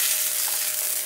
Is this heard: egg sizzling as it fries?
yes